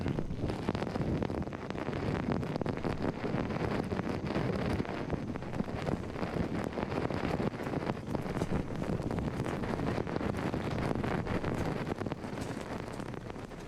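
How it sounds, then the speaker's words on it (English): Strong wind roars and buffets steadily across the whole stretch, loud and gusty with a rushing, blustery texture and no voices. "Dang, that wind is picking up."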